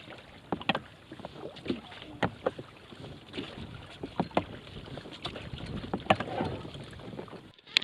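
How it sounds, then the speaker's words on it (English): A Walker Bay 8 dinghy being rowed on the Rideau Canal, with a steady run of oar strokes knocking and splashing nearby over wind noise on the microphone. "So we're gonna row."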